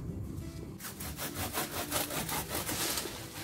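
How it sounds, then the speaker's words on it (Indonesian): Handsaw cutting through a longan tree branch outdoors, with steady rhythmic back-and-forth strokes, about two per second, close and clear over low background rumble. "ini dipotong ya enggak terlalu tinggi aku biasanya pakai gergaji"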